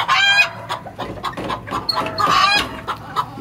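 White and black Silkie chickens clucking close by on a farm, a busy run of short, overlapping clucks and squawks with no talk.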